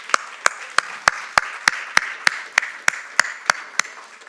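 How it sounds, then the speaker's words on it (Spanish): A church congregation claps in unison during a Spanish-language worship service, a steady, evenly spaced beat of about thirteen sharp claps over a soft background murmur of voices. "Dale un aplauso al Señor."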